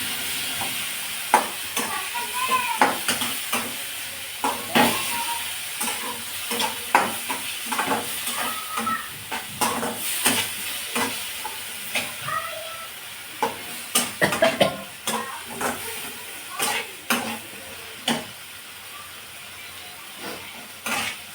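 Green beans fry and sizzle in hot oil with a cumin tempering, with a soft continuous hiss broken by repeated sharp clacks and scrapes of a spoon stirring against the pan. No one speaks.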